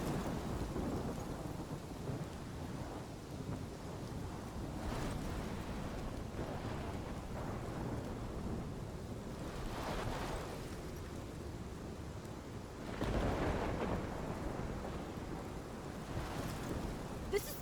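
Steady heavy rain pours in a stormy scene from the video game Life Is Strange Remastered, with low rolling thunder swelling twice and a constant dense wash of water throughout.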